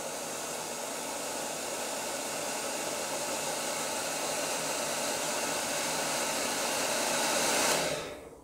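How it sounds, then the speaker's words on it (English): A hairdryer blows with a steady, loud whooshing hiss for several seconds, then switches off and winds down at the end. "quickly dry that with the hairdryer."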